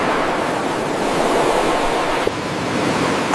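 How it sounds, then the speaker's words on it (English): Ocean waves wash steadily onto a sandy shore, a continuous, full rushing surf with some wind, loud and close, with no voices. "I lay on the sand, listening to waves whisper my name."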